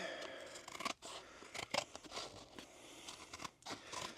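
Scissors snip through the sole of a counterfeit Vans Old Skool sneaker to expose a cross section, with close, uneven crunching cuts and brief pauses between strokes.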